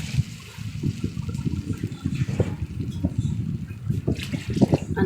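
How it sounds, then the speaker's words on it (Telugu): Water is poured into a pot of Pongal mixture, making a close, steady gurgling splash that runs unbroken for several seconds without any voices. "2 గ్లాసులకి 3 గ్లాసులు నీళ్ళు పోసాను"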